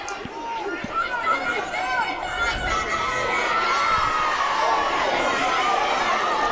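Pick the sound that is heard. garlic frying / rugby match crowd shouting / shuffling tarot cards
rugby match crowd shouting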